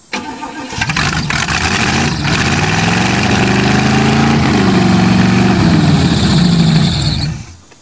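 An old Chevrolet engine cranks and fires on a cold start, then runs loud and close with a rough, slightly varying idle for several seconds before cutting off.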